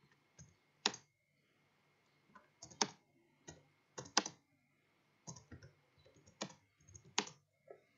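Keys clack on a computer keyboard while text is typed into Microsoft Word, coming in short irregular bursts of sharp clicks separated by brief pauses, close and fairly quiet, with no talking.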